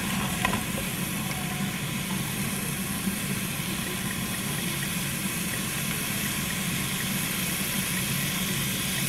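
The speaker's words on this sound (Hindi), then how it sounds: "शिमला मिर्च और प्याज को पहले मैं कर लूँगी थोड़ा सा फ्राई कर लूँगी" Capsicum and onion fry lightly in a pan with a steady, even sizzle that holds at moderate loudness throughout, close up and with no voices.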